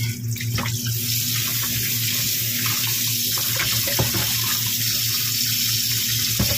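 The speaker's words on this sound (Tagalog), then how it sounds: "mahina yung tubig." A weak, thin stream of tap water runs steadily into a sink at an outdoor grilling setup, a continuous gentle splashing hiss that stays even and close throughout, with a low steady hum beneath it.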